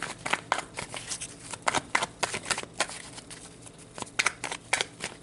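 A deck of tarot cards is shuffled by hand, a rapid series of crisp riffling bursts and soft slaps repeating in an irregular rhythm, close and clear with no talking.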